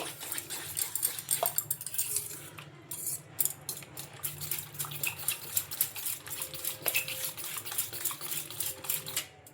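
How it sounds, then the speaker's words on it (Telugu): Chaat masala and spices are stirred into a bowl, giving rapid repeated clinks and scrapes of a spoon against the dish, close and fairly loud, with a few short pauses. "ఇంకా ఈ మసాలాలు అన్నీ వేసుకున్న తర్వాత ఇలా బాగా కలిపేసుకోవాలి"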